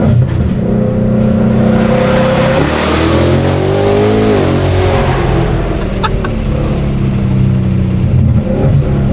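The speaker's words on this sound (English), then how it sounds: "Maybe stop right here and give him a little burn." A car with Hoosier tires stops and does a burnout, its engine revving loud and close with a sustained roar that climbs and falls in pitch as the wheels spin, with no talking.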